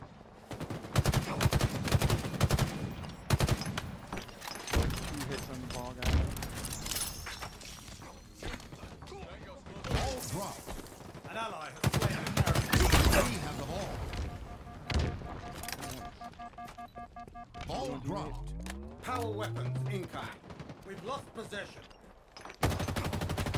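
Rapid bursts of rifle and automatic gunfire crackle through a Halo Infinite multiplayer match, mixed with explosions, shattering impacts and game effects in a dense, busy soundscape, with occasional voices.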